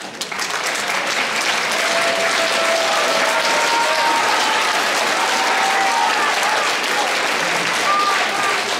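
Sustained audience applause at a 9 May concert in Klaipėda, Lithuania, a dense steady clapping that fills the whole stretch with faint crowd murmur beneath.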